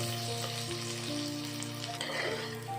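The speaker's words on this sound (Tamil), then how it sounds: "ஒரு பெரிய சைஸ் வெங்காயம் இந்த மாதிரி நீல வாக்கில் வெட்டி சேர்த்துக்கிறேன்." Sliced onion sautéed with green chili in hot oil sizzles steadily and busily, with stirring scrapes mixed in, close and moderately quiet, no voices.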